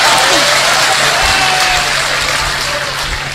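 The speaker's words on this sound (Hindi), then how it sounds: "मुझे एक बार तालियां बजाकर सूचना दे दीजिए।" An audience claps together at a Hindi kavi sammelan poetry gathering, a loud, dense, steady wash of clapping that slowly eases toward the end.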